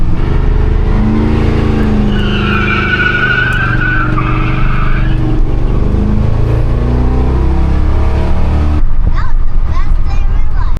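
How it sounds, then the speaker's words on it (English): A cammed Chevy C10 Squarebody pickup with a Holley carburetor on a test drive, its loud engine droning steadily with rising and falling revs and rumble throughout, and people talking over it. "Still got to give it an old test drive."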